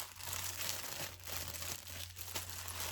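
Plastic packaging crinkles steadily as a bonnet is folded into it and the air pressed out for shipping, a soft continuous rustling with a faint steady hum underneath.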